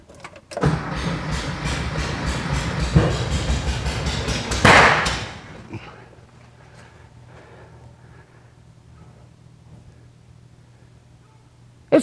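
The engine of a 1973 VW Thing, parked for about 40 years, cranks loudly for several seconds and does not catch, then a low idle-like hum lingers before a sharp thump at the end.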